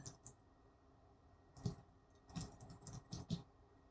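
Quiet typing on a computer keyboard, a handful of soft, irregular key clicks in short bursts heard up close in an otherwise silent room.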